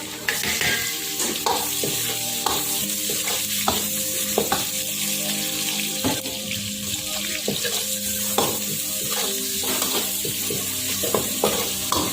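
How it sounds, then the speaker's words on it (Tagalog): Onion sautéing in a pan for Filipino dinuguan, a steady sizzle and fry with frequent stirring clatter and scraping of a utensil against the pan, close and continuous, with faint running water in the background. "Pag golden brown na po, inis po natin ng onion"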